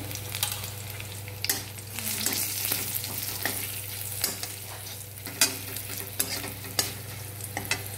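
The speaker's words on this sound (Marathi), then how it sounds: "हळद परतून झाली" Turmeric stirred in a hot pan with green chillies and curry leaves, for a dry cabbage stir-fry. A steady close sizzle of frying runs throughout, with repeated spoon scrapes and taps against the pan and no talking.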